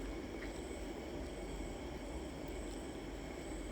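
At KTM railway station in Malaysia, a train gives off a steady, dense rumbling roar with a faint high whine of wheels, constant and unbroken throughout.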